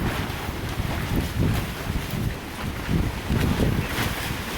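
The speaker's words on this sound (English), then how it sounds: "See here, show you guys the wind gust." Strong wind gusts around a portable car garage, a roaring, buffeting rush that surges and eases in waves, loud and close against the microphone with no other sounds.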